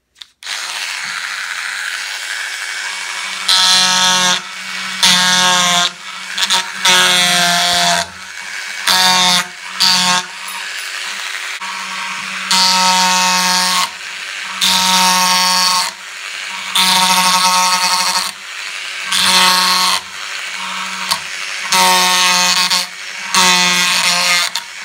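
A Proxxon power wood carver fitted with its largest gouge bit cuts into wood, giving a close, steady mechanical buzz in repeated rasping bursts with short gaps, running throughout without talk.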